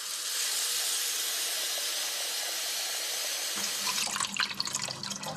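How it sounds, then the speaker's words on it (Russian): Tap water is poured through a magnetic funnel into a water filter system, a steady bright hissing stream that turns into gurgling, splashing flow near the end, close and continuous with no voices. "Вот сюда, используя эту магнитную воронку, заливается вода из крана."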